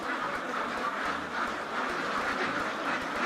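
Ducks on a fish farm quacking repeatedly in short, close calls over a steady noisy background, with no talk.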